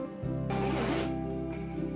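A hidden zipper on the rear pocket of a backpack-style bag is pulled in one quick, close rasping stroke lasting about half a second, with no talk over it.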